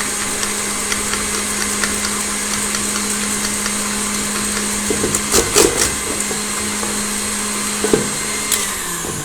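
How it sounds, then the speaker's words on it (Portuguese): A hand mixer beats butter and sweetener into a white cream for a healthy buttercream cake, a steady motor whir running throughout with a brief louder clatter near the middle and another near the end. "Pode ser na batedeira de mão, dá tudo certo, viu?"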